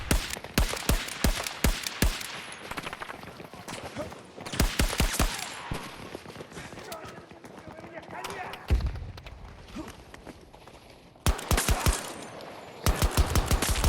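Rapid pistol gunfire in the shooter game Battlefield 6 sounds in repeated close, sharp bursts, with quieter stretches of game noise and someone talking over parts.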